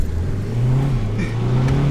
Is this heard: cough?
no